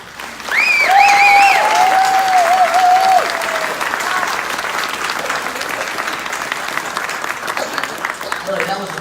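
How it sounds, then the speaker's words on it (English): An audience at a mayoral debate in Daytona Beach gives the candidates a round of applause. The clapping swells loud at first and then continues more softly, while a voice talks over the start. "I want you to all give a big round of applause to all of these candidates"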